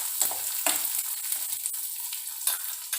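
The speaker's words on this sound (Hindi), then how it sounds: "अपनी प्याज को इसमें डाल के अच्छे से भून लें।" Sliced onions fry in hot oil in a pan for Punjabi kadhi pakoda, a close, steady sizzle with a few sharper crackling bursts as they are stirred.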